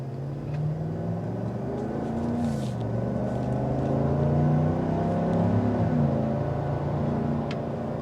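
A 2024 Chevy Silverado ZR2 Bison pickup with a 6.2-liter V8 accelerates hard, its engine note climbing steadily in pitch through gear changes, heard from inside the cab at moderate volume with no talking.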